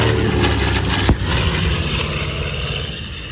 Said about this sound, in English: Those big Curtiss Wright engines on that thing.